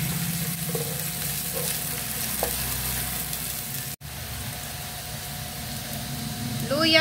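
Garlic frying in a pan for a home-cooked Filipino dish, a continuous sizzle with stirring sounds and a brief break near the middle, rising into louder spattering at the end.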